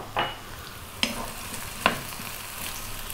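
Fresh chili drops into a hot pan for an Indian restaurant-style vegetable curry, a soft background sizzle broken by a few short sharp stirring scrapes and clinks.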